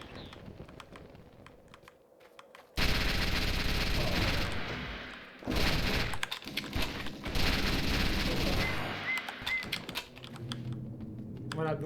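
Machine-gun bursts in the shooter XIII Remake: dense, loud, sustained rattling volleys that break off briefly and resume, over quieter game ambience beforehand.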